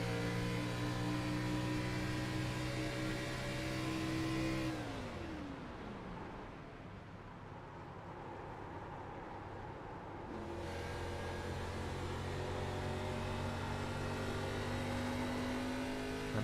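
Kart engines in a karting racing game set at Twin Ring Motegi, loud and steady, with the pitch dropping as revs fall off through a corner and then climbing again as throttle comes back, several engines droning together.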